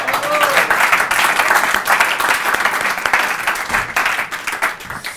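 A studio audience on the French show Kandidator claps for a contestant during a public applause vote: thick, continuous clapping from many hands, fairly loud and close, with voices mixed in.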